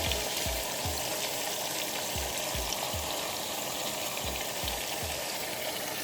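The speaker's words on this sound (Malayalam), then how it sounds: "ഇതും കൂടി ഫ്രൈ ചെയ്തെടുത്താൽ നമ്മളെ ചിക്കൻ്റെ ഫസ്റ്റ് ലെവൽ കംപ്ലീറ്റ് ആയി" Chicken pieces fry in a pan for Thalassery dum biryani with a steady, loud sizzle, broken by regular low scraping stirs close by.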